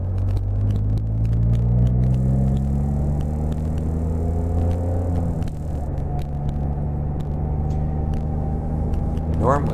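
A Can-Am Spyder F3 three-wheel motorcycle rides along a twisty road, its engine a steady loud drone with shifting pitch through a bend, then settling into a continuous rumble with wind noise.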